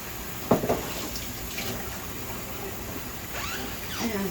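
Tap water runs into a kitchen sink while sugar residue is rinsed off, a steady hiss of flow with a brief splash near the start and faint clatters later.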